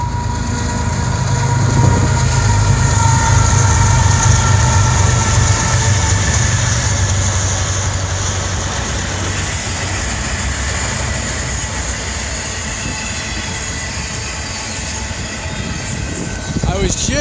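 A train rumbles past close by at Whiskeytown Lake, loud and continuous with a rhythmic clatter of wheels, swelling early then slowly easing.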